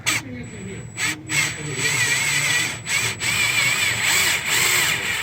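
A power drill bores out 6.7 EGR bolts in repeated bursts, grinding and whirring up close with brief pauses between runs.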